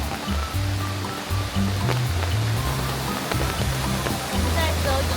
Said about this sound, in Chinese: 好多个瀑布。